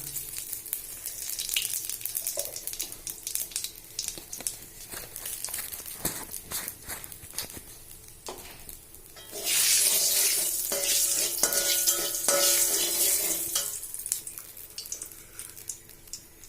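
Radhuni sauce poured into hot oil for a bottle gourd leaf dal: light stirring clinks give way to a sudden loud, steady sizzle that holds for several seconds before fading, close up with no talking.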